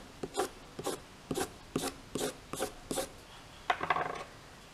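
Chalk pastel dragged across paper in tapered overlapping strokes, about eight soft, regular raspy scrapes in a steady rhythm, close and quiet with no talking.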